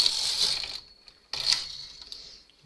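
A knitting machine carriage slides across a row of needles, giving two close mechanical ratcheting sweeps separated by a short pause.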